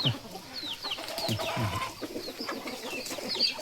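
Chickens cluck and chirp steadily at a farm during breeding season, young birds among the flock, with several overlapping calls at moderate distance and no one talking.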